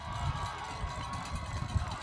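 A large crowd in the stands at a high school football game between Brookland-Cayce and Airport High makes a sustained roar with low rumbling, heard from a distance in an open stadium, mixed with some faint voices.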